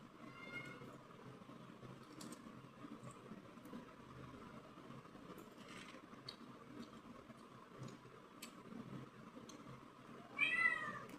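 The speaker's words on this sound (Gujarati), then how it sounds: "હાલે બિલાડીને બચ્ચું આવે છે ને એ." A kitten meows faintly a few times in a quiet outdoor home setting, with soft background noise and a slightly louder cry near the end.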